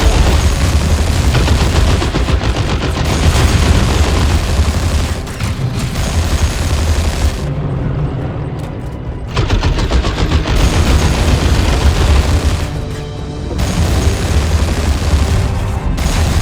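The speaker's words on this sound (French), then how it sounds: "On se fait tirer dessus!" Dense gunfire from Orks coming under attack in the Dawn of War 2 strategy game: loud, sustained machine-gun bursts and booms run nearly the whole stretch, with brief lulls between volleys and no talk.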